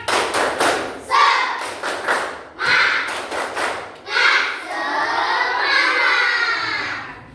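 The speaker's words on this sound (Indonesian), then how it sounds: "Tepuk semangat." Classroom children perform a rhythmic spirit clap in several sharp bursts of patterned clapping. Their voices shout and chant along, and the teacher speaks between the rounds.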